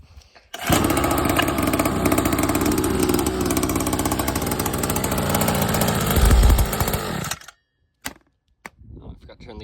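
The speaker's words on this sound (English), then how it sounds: "Let's go ahead and start it and see if it rattles still." An SSR SX50-A dirt bike, freshly reassembled after a motor mount repair, starts up and runs loudly and steadily close by for about seven seconds, with a brief throttle blip near the end before it cuts off.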